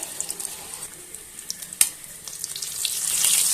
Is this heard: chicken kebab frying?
yes